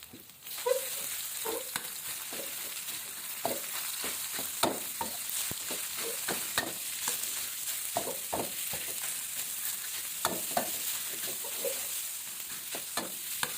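Minced pork stir-frying over high heat in a hot wok for spinach with pork, a steady close sizzle broken by frequent sharp scrapes and clacks of the spatula, with no talking.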